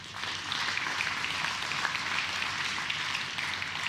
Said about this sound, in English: The applause, by the way, is for Jamie Jones on table 1